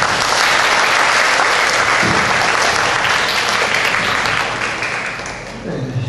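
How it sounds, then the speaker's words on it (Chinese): A school audience at a joint music exchange concert claps in sustained, dense applause that fades gradually toward the end, with voices faintly mixed in. "掌声欢迎。"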